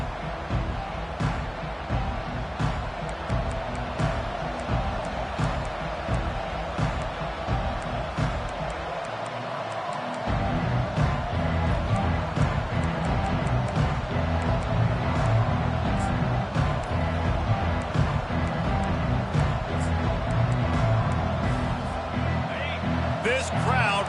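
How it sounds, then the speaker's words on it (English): A stadium crowd in the video game College Football 25 roars steadily at a Notre Dame vs USC game, a dense continuous wash of cheering that swells slightly midway, heard throughout under a commentator's play-by-play talk. "This crowd bringing an ear-splitting welcome to their visitors."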